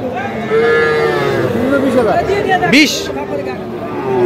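A heifer calf moos several times, loud and close, at a busy cattle market, over a background of crowd chatter and nearby talking.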